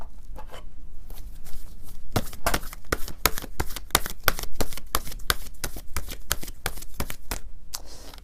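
A deck of tarot cards is shuffled close up, a fast run of crisp papery riffles and slaps repeating in an even rhythm with no talking.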